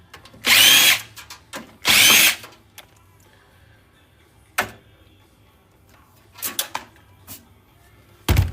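Short bursts of a power drill remove screws from an old desktop PC tower, two longer whirs followed by several brief pulses and clicks, close and loud against a quiet background.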